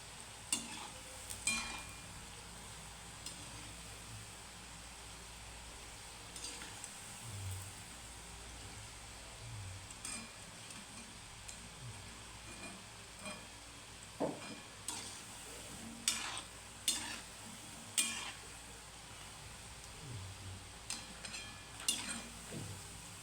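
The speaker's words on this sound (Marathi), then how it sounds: "लाल होईपर्यंत तळून घ्यायचे" Wheat-flour gobi manchurian balls deep-frying in oil over low heat, a faint, steady bubbling hiss with occasional soft clinks and pops, quiet and continuous throughout.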